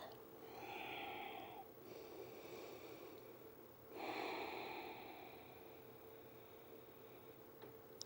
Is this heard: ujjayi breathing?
yes